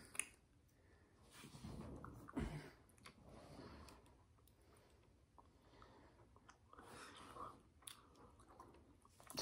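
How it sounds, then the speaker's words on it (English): Chewing on fiery Bean Boozled jelly beans, with wet, squishy mouth sounds and occasional crunches close to the mic, broken by breaths and a sharp thump. "You gotta chew it."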